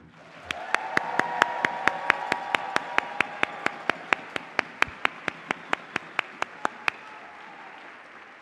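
An audience at a teachers-of-the-year celebration applauding for several seconds: steady, moderately distant clapping with a run of sharp, evenly spaced loud claps cutting through the crowd noise before it fades.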